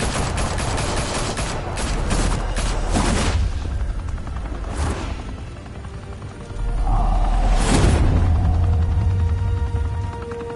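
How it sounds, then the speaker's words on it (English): Gunfire erupting in Batman: The Telltale Series game: a loud burst of rapid shots over a few seconds, then whooshing blasts and heavy booming crashes amid dense action noise. "Open fire!"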